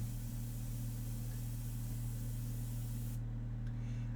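A continuous hiss of an airbrush spraying India ink onto a portrait, steady and close with a low compressor hum underneath, cutting off abruptly near the end.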